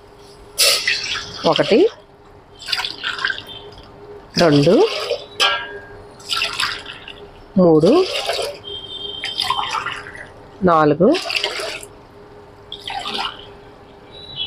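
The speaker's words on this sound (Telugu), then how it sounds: "ఇదిగోండి వాటర్ వేస్తున్నాను." Water poured glass by glass from a drinking glass into a large pot on a lit stove, four separate gushing splashes at a steady pace, while a woman counts aloud between and over the pours.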